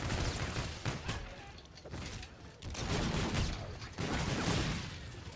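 Rapid, continuous automatic gunfire from a fast-firing gun in Call of Duty Infinite Warfare, loud and dense throughout with brief dips between bursts.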